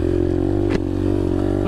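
A Yamaha TTR 125 dirt bike engine runs close by, a steady loud droning hum with a brief rev blip midway before settling back to idle.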